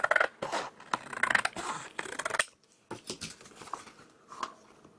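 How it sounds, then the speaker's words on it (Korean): Scissors snip through a page of a Catch! Teenieping sticker art book, with several crisp, close cuts in quick bursts, a short pause, then a few lighter snips. "그러면 또 가위질 해주시면 요 아래쪽 조금 잘라주고"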